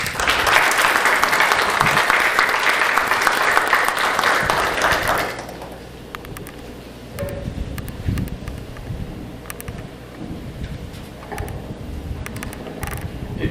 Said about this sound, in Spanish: Demos un aplauso, por favor.